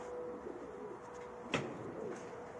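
Young racing pigeons coo softly in a loft, a faint, low, rounded murmur with one brief sharper flutter-like sound near the middle, heard alone at low volume.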